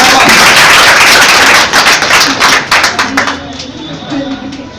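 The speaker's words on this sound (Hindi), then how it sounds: "बहुत जोर से ताली बजाओ श्रीराम।" Loud, dense clapping from a group applauding Shriram, an MP Police exam topper, a thick wall of claps that thins into scattered individual claps and fades out near the end.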